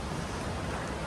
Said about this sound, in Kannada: ಬರೀ ನದಿ ಸೌಂಡ್ ಬಿಟ್ರೆ ಏನೂ ಕೇಳಿಸಲ್ಲ ಇಲ್ಲಿ